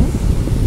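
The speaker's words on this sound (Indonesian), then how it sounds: "Tertiup angin." Loud, low gusts of wind buffet the microphone outdoors, producing a close, rumbling roar that swells and dips across the short moment with no speech.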